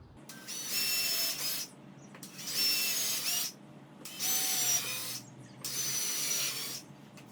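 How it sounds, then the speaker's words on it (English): A drill bores four pilot holes into a wooden workbench, four evenly spaced bursts of high whirring about a second long each with brief quiet gaps between, close up and with no speech. "And we're going to do 4 pilot holes here."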